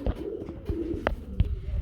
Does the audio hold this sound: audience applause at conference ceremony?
no